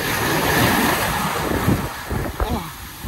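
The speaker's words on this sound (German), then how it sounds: "Jetzt kommt eine sehr große Welle." Large ocean waves break and roar continuously, close and loud, with strong wind rumble across the microphone and no talk over the surf.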